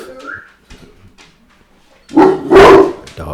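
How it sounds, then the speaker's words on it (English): A dog indoors barking loudly and frantically in a short burst, preceded by a few faint whimpers and yips, close to the microphone, with no talking. "The dog is having a conniption."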